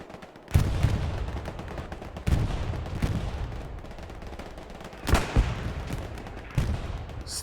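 Artillery and tank fire in the World War II shooter Hell Let Loose: heavy booming blasts at irregular intervals, with sharper cracks around the middle, over a constant rumble of distant battle and no voices.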